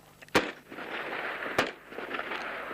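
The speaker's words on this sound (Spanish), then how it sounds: "3 tiros de G3, tiro por tiro solamente al aire" Two sharp G3 rifle shots fired into the air crack about a second apart, fairly distant, each followed by a brief rolling echo over low outdoor background noise.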